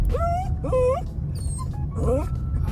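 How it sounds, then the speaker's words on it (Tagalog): A dog whimpers in several high, rising whines at the sight of another dog, short and pleading, close by, with brief gaps between each cry. "Si Peanut, di mapakali na nakakita ng aso."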